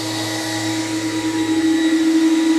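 An SD15 Sump Shark sump vacuum running on battery power whines steadily and loudly, its motor pitch holding firm as it swells slightly in volume.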